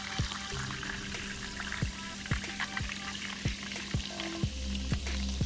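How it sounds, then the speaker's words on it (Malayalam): Soda pours into a kiwi cooler drink, giving a steady fizzing hiss with small drips and ticking bubbles, close and fairly quiet. "ഇനി ഇതിലേക്ക് അവസാനമായി നമ്മൾ സോഡയാണ് ആഡ് ചെയ്യുന്നത്."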